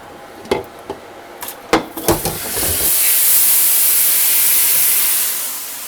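Steam hisses off a hot cooking surface during a ribeye steak dinner preparation. A few sharp knocks and clatters come first, then a loud, sustained hiss lasts several seconds before fading.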